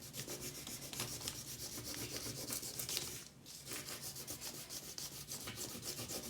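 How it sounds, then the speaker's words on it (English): The side of a crayon rubs back and forth over paper laid on a leaf for texture, a close, rhythmic scratchy scraping that pauses briefly midway before resuming. "Use the side of the crayon and do your rubbing."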